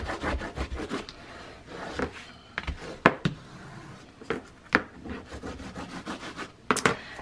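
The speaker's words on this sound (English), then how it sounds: "Let me burnish that down." A fabric book spine being burnished down by hand: irregular close rubbing and scraping strokes punctuated by sharper dry scuffs and taps, with no talking.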